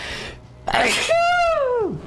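A single sharp sneeze bursts out close and loud, its breathy intake rising into a strained, wailing exhale that trails off, with no other sound around it.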